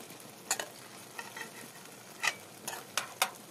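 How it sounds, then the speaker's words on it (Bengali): Fried chicken pieces being stirred in a pan of curry masala, with a handful of sharp utensil scrapes and clicks spaced irregularly over a faint sizzle, no voices. "ভেজে রাখা চিকেনগুলোকে দিয়ে এবার সব ভালো মতো একসাথে আবার ভেজে নিতে হবে।"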